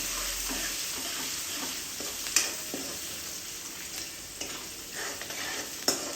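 Finely chopped raw green mango gets stirred into a hot sizzling pan, giving a continuous frying hiss marked by a few crisp spoon scrapes and taps spread across the clip, with no voices.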